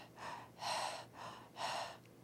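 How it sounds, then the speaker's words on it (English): Shallow breathing practised for relaxation during childbirth contractions: four soft, airy breaths in an even rhythm, close and fairly quiet, with no talking. "and then it's 3 shallow breaths,"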